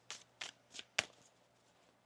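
A deck of tarot cards is shuffled in short riffling bursts, four quick quiet swishes evenly spaced followed by a sharper card snap and another burst near the end, close and faint in a quiet room.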